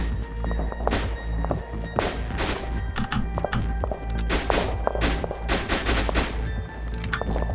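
Repeated bursts of gunfire from troops in GTA 5, sharp loud shots in irregular clusters over a steady low rumble throughout, with no talking.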